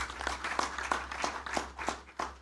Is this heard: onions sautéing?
no